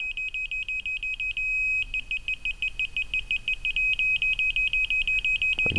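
Rapid, evenly spaced high-pitched electronic beeps from a laser level receiver repeat continuously, briefly stopping once before resuming at the same steady rhythm.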